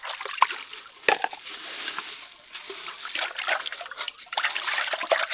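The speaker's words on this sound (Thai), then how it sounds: "ล้างมัน ยังกำลังล้างเลย" Food being washed by hand in water at an outdoor forest camp, with close, irregular sloshing, trickling and small splashes that keep going without a break.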